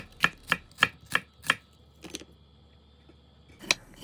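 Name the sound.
knife slicing a quarter onion on a cutting board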